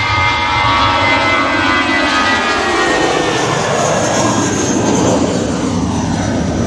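Loud, close roar of a British Airways jet airliner passing at Manchester Airport, a steady engine rush with a whining high tone that shifts as the aircraft goes by, no voices over it.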